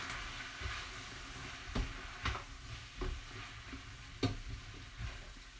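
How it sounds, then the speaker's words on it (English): Pappardelle pasta being stirred in a pan of pumpkin sauce, a soft steady sizzle with several scraping taps of a utensil against the pan, close and quiet. "I'm adding the pappardelle to the pan."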